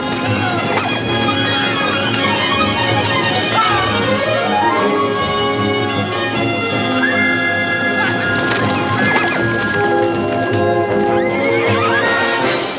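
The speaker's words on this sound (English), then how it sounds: "He was proud and fast, the kind of a horse any man would give his right arm to own." A proud, fast horse neighs and whinnies repeatedly while hooves gallop beneath, loud and continuous over a sweeping orchestral score.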